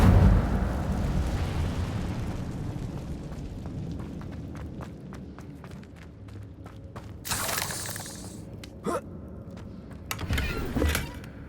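Incendio fire spell cast in Hogwarts Legacy, a loud whooshing burst that fades into crackling and then sharper flaring bursts and pops of flame, with no voices.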